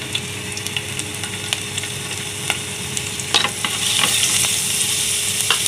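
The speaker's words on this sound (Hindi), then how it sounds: "इसे हम सिर्फ हल्का फ्राई करेंगे ना, इनसे गोल्डन करेंगे, लाइट गोल्डन इसे कर लेंगे" Finely chopped garlic sizzles in about a spoonful of hot oil while being lightly fried toward golden, a steady crackle broken by sharp scraping stirs and clinks of a spoon against the pan, close and loud with no voices.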